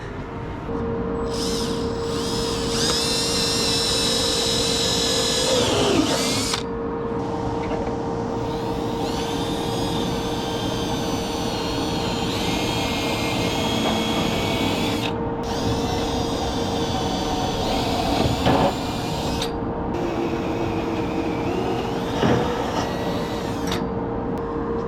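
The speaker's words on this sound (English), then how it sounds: "We'll just drill a 5/16 hole from the bottom up." A power drill bores a 5/16 hole from the bottom up into a broken trailer on an almond farm, a continuous loud whirring grind that runs throughout with brief changes in pitch and load.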